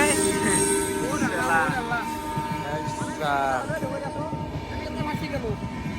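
At a railway level crossing with the gate down, a passing train rumbles and its wheels squeal, while people nearby talk over the noise.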